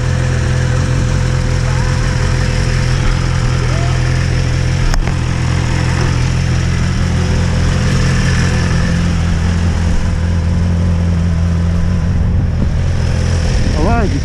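A BMW S1000RR motorcycle engine idles nearby, a loud, steady low throbbing rumble that holds an even pitch throughout, with a faint light rev rising at the very end.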